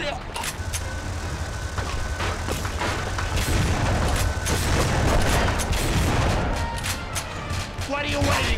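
Shotgun blasts and other gunfire in The Punisher on PS2, several sharp booms spaced through a busy, noisy game scene, with someone talking over the action.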